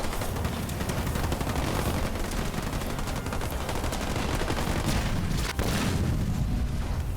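Continuous dense turret gunfire in the Halo Wars 2 real-time strategy game, a loud unbroken rattle of rapid shots and booms lasting throughout with only a tiny dip near the end.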